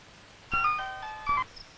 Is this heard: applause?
no